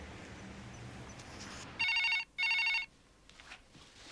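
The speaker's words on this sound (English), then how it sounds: "Julie rang Dominic" A telephone rings in two loud, evenly spaced bursts of electronic trilling, standing out sharply against quiet background room noise.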